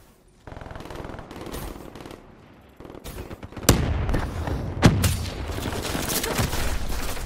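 Automatic gunfire from a weapon in Call of Duty Black Ops 3 on the Nuketown map, loud bursts of rapid shots with sharp cracks and booms, sustained and continuous with no talking.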